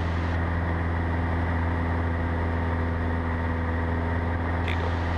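A Cessna 172 engine drones steadily in flight as its mixture is leaned, a dense continuous cockpit roar with a constant low hum and no clear change in loudness.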